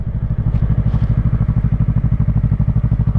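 Yamaha YZF-R3 motorcycle being ridden, its engine giving a steady, loud, rapidly pulsing low drone close to the microphone throughout, with no talk over it.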